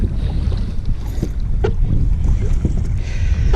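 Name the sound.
wind blowing on a lake while kayaking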